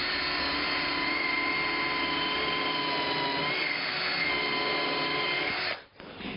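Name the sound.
Bosch drill driving screw into chicken coop frame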